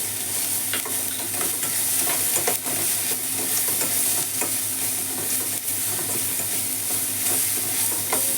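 Sliced onions frying with turmeric in a pan, a steady close sizzle with occasional stirring scrapes, continuous and without talk.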